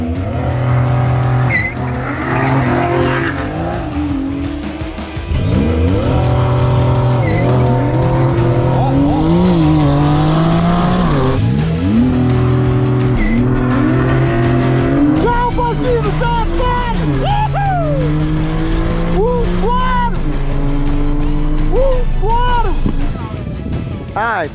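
Porsche 911 and Toyota Supra in a street race, loud engines revving and shifting up through gears with repeated tire squeals and skids, steady and close throughout, with people talking over the noise.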